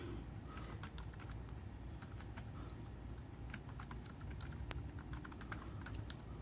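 Irregular, faint key clicks from fingers on a cramped, small computer keyboard, set against a steady background of chirping crickets and insects.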